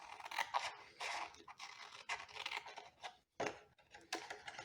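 Paper being cut with scissors for a Stampin'Up! Poinsettia lantern craft: repeated crisp snipping and scraping strokes in irregular bursts, close and fairly quiet, with a brief pause partway through and no talking.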